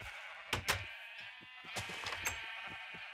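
Sheep bleating in the Minecraft video game, several short bleats from a flock in quick, irregular succession, fairly close and clear over a faint background hum, with no talk.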